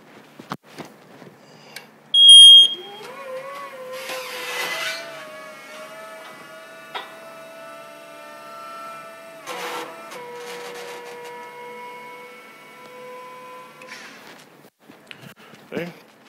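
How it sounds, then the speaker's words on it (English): A Snorkel 3246E electric scissor lift elevates, its motor giving a rising tonal whine that settles into a steady hum, with a short sharp beep near the start and a few knocks along the way. "Elevate the machine so we can see it."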